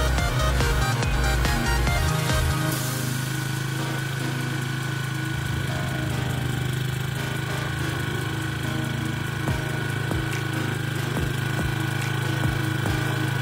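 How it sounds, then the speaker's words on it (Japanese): Iseki Land Mini 30 cultivator engine droning steadily at close range while ridging a field, a constant loud mechanical hum with rough low pulsing and occasional knocks, with no voices. "エンジンのうなり音はだいぶ改善されました"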